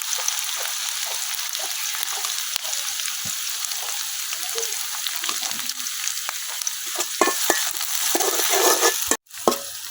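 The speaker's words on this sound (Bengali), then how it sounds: "পেঁয়াজ রসুন হালকা ভাজা নিচ্ছি" Onion, garlic and green chili frying in a wok for an iftar chickpea dish, a loud continuous sizzle with occasional scraping stirs and clinks, the hiss swelling near the end before cutting off abruptly.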